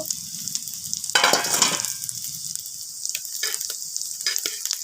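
Masoor dal bora, red lentil fritters, frying in a pan: steady close sizzle throughout with a louder burst of spattering hiss around the middle, then scattered crackles and pops, no talking.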